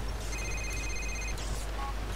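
A phone rings in Grand Theft Auto IV, a clear electronic ring tone of repeated high chirps over a low, steady game rumble.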